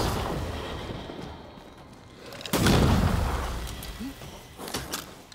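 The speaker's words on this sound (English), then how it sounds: "I can do explosions now." A loud booming explosion in the video game Banishers: Ghosts of New Eden erupts midway and rumbles out, with smaller bangs and crackles around it against constant background noise.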